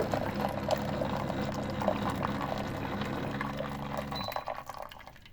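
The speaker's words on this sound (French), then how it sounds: "Donc là, il donne de l'eau chaude." A Vevor instant water heater dispensing 200 ml of hot water, a steady, fairly loud pouring and splashing stream that runs for about four seconds and then cuts off, leaving a brief trickle.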